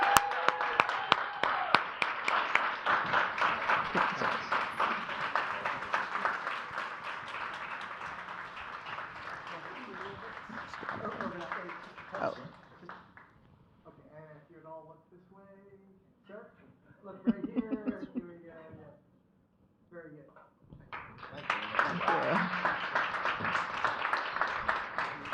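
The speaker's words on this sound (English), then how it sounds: "Let's give him a big round of applause." Audience applause at an Uber driver awards event, a dense, steady wash of clapping that gives way to a brief stretch of talking in the middle before the clapping swells again at the end.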